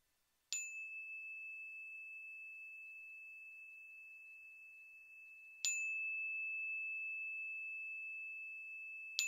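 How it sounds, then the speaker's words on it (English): Meditation bell struck to open a breathing meditation, ringing out with a clear sustained tone that fades slowly, followed by a second strike and the start of a third, alone in a quiet room. "Starting with 3 bells to call us to this moment."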